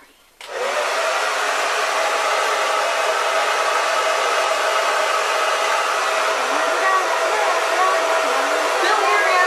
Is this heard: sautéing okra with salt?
no